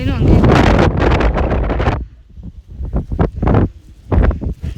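Strong wind buffets the microphone on a hilltop during a trek near Bengaluru, loud rumbling gusts that ease off briefly and then return in bursts.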